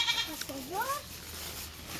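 A goat kid, about a day old, bleats twice in short wavering cries, near and clear, with background voices around it.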